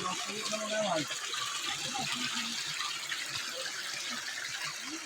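A stream flows right beside a house, a steady rushing gush of water running throughout, with a voice talking over the first moments.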